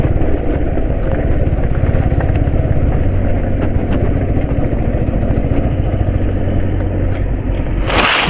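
Motorcycle engine running steadily close by, a loud continuous low rumble with a throbbing idle-like pulse, alone without speech and ending in a brief burst of noise.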